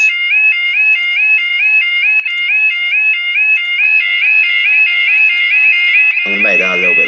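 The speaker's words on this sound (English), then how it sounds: "So together, the alarms would sound like this." Several electronic alarms warble together in loud, overlapping cycles that pulse steadily throughout, and a burst of lower, rougher sound joins near the end.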